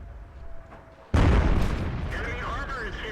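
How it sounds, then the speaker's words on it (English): A heavy tank cannon blast in World of Tanks erupts suddenly and loudly after quiet engine rumble, followed by a lingering boom and ringing battle noise. "the 304 shot at me again and missed"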